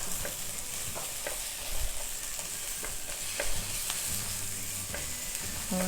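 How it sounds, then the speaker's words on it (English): Onions sauté in a pan for smothered pork chop gravy, giving a steady soft sizzle with scattered crackles and occasional stirring scrapes, close and fairly quiet. "you hear that sizzle because we are what? Sauteing. We are sauteing our onions."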